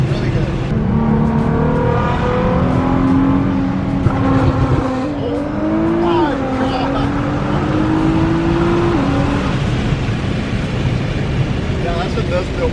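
Nissan GT-R with an aftermarket exhaust droning loudly and steadily as the engine holds and gradually climbs in revs under load, with a brief dip midway, close and continuous throughout, with a voice faintly underneath.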